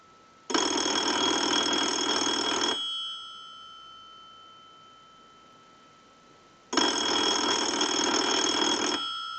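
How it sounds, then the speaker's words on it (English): A desk-top payphone bell rings in two long bursts, set off by a test analyzer's ring cycle. The loud metallic jangle is separated by a few seconds of quiet, with no talking. "use the analyzer and send a ring cycle like you were getting a call"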